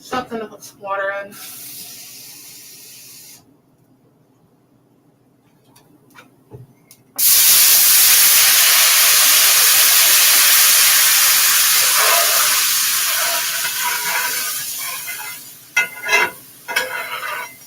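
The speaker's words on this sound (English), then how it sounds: "I'm scraping everything off the bottom." Food is scraped off the bottom of a hot pan with water added for live home cooking, giving a loud, sustained sizzling hiss that swells suddenly and runs for several seconds before easing into scraping clatter.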